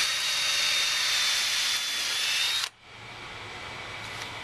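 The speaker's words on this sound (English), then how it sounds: "Drilling the pilot holes." A power drill bores pilot holes into the wood of a raised garden bed, a steady loud whine that runs for about two and a half seconds, then cuts off abruptly, leaving a quieter hiss.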